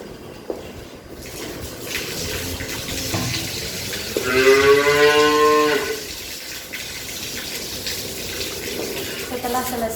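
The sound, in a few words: cattle mooing during artificial insemination handling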